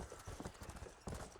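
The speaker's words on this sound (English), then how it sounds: "riding in on my horse" Galloping horse hooves beat out a quick, even clip-clop rhythm during a ride in Red Dead Redemption, close and fairly soft, with a slight surge in loudness near the end.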